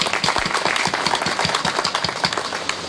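An audience at a cotton-farming seminar applauds to welcome a guest, producing a steady burst of many hands clapping close by, dense and sustained throughout.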